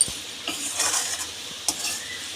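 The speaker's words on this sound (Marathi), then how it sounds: "थोडा मसाला भाजून झालेला आहे" Masala spices roast in a pan with a faint, steady sizzle, broken by a few sharp clicks and scrapes of a spoon stirring against the pan, close by and quiet.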